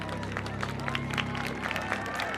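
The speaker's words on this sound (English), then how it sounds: "She will get a nice round of applause as well" Spectators at the Bill Summa Invitational track race clap and cheer as a runner comes through, a steady crowd roar with scattered claps and calls under a commentator's voice.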